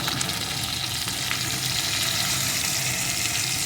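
A vegetarian curry of flat beans and potato with tomato, green chilli and turmeric is sautéed and stirred in a pan, giving a steady close sizzle with faint scraping throughout.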